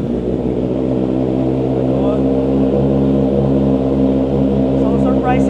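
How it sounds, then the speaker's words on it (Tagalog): A 2024 Honda CB650R E-Clutch motorcycle with stock headers, cat delete and a Red Exhaust canister idles loudly and steadily at close range, with a slight rise in revs toward the end. "Dito naman tayo sa ating 24CB 650R E-clutch with stock headers, cut, delete, and canister by Red Exhaust."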